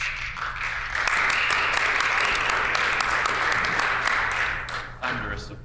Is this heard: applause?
yes